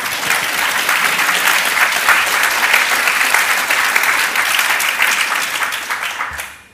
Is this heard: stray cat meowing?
no